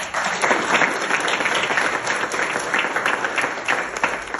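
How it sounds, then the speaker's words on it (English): Applause from a band's audience for its secretary, a steady dense patter of many hands clapping at moderate loudness, sustained throughout with a faint constant hum beneath. "let's give a round of applause for Kyle"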